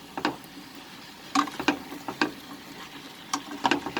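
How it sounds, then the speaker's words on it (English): Flat beans frying in a pan over raised flame give off faint, scattered crackles and light stirring clicks in irregular bursts, with no talking. "I will fry this like this for another 2 minutes"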